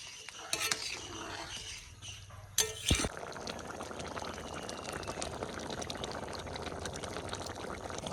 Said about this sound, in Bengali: এবার একটু ফুটুক একটু সময় ফুটলেই হয়ে যাবে দুই তিন মিনিট ফুটুক